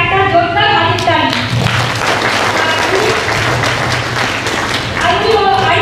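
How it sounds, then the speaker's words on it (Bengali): An audience at an RCM celebration event gives sustained, dense applause, with many hands clapping steadily for several seconds. Talk is heard at the start and end. "ওই ম্যানের জন্য একটা জোরদার হাতের তালি"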